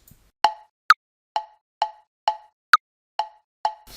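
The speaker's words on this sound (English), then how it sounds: "The next feature is the metronome sound. The default sound is this." Default metronome click from BandLab set at 131 beats per minute: eight evenly spaced, crisp woody plops, with two higher-pitched accented clicks among them, close and clean with no talking.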